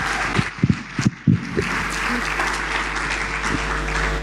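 A conference audience at a youth conference's opening ceremony claps in a sustained, dense round of applause, with a few louder nearby claps early on and voices mixed in.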